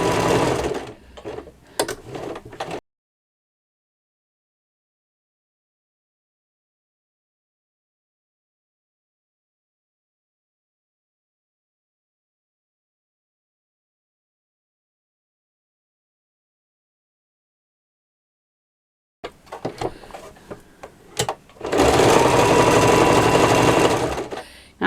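A sewing machine stitches patchwork in two close bursts, a short run at the start and a longer, louder one near the end, separated by a long stretch of silence with no talking.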